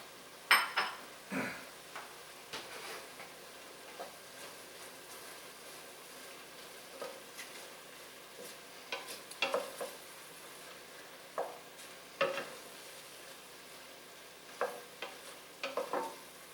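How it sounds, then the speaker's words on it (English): Mushrooms saute in a soup pot with a soft, continuous sizzle, broken by occasional louder stirring scrapes and clinks of a utensil against the pot. "these just need to basically saute for a minute"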